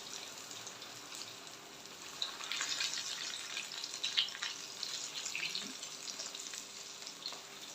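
Crispy potato balls frying in hot oil, a fairly faint, continuous crackling sizzle with scattered pops throughout.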